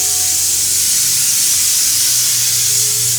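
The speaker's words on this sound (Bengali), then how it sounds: "এদিকে প্রেশার কুকারে শিশি উঠতেছে" Steam hisses steadily and loudly from a pressure cooker on the stove as dal and papaya cook inside, a broad continuous rushing with no voices over it.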